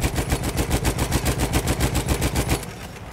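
Rapid, sustained machine gun fire from Battlefield 1, loud and close in a steady rhythmic burst that cuts off just before the end, leaving a quieter tail.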